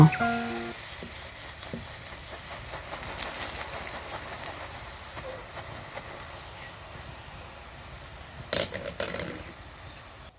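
Oil bubbles and sizzles softly in a steady frying hiss as batter-dipped pitha cakes deep-fry, with a few brief clinks and pops near the start and end.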